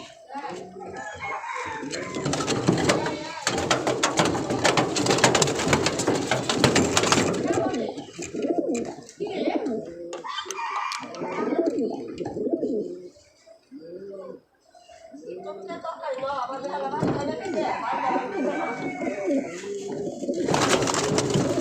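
Pigeons cooing in a loft that are flown daily, with repeated throaty coos and rustling wings close by, someone talking at times and a rooster crowing faintly.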